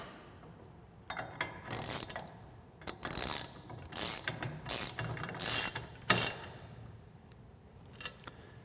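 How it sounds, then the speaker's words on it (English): Ratchet wrench tightening two nuts that hold a handle to the frame of a Polaris Glacier Pro HD ATV plow system, heard as a series of close, bursty clicking strokes with short pauses between them. "The handle is retained to the frame with 2 nuts, and these should be tightened down completely at this point."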